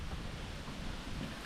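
Steady broadband wind roars outdoors during rainy-weather cooking at a gas stove, a constant low rumble with no break and no voices.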